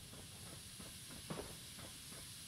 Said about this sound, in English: repair it where it's hissing at